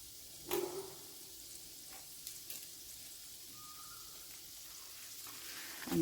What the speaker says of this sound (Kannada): ಕಡಲೆಬೇಳೆ ಹಾಕಿ ಸ್ವಲ್ಪ ಹುರ್ಕೊಳ್ಳೋಣ.